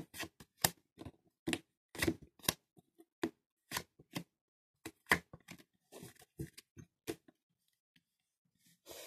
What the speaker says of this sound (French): je repose une carte sur chacune.